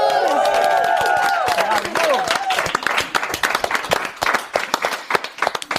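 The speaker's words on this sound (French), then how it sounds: "Applaudissements!" A live audience at a podcast's second-anniversary celebration breaks into loud applause with cheering voices at first, the clapping thinning into scattered, distinct claps that fade toward the end.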